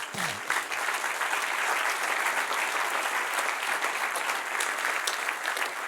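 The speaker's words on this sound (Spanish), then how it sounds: "dale otro aplauso" Congregation at a church service applauding together, a steady dense clapping that carries on evenly throughout with no talking.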